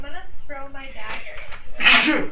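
A single sharp sneeze bursts out near the end, loud and close, following a stretch of casual talk among players at a tabletop dice-and-paper role-playing game session.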